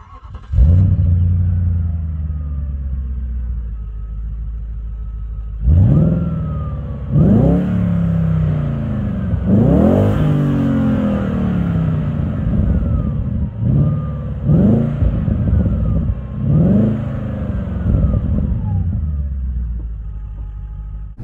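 An Audi RS6 C5's 4-litre twin-turbo V8 revs repeatedly, with loud rising and falling blips separated by a steady rumbling idle.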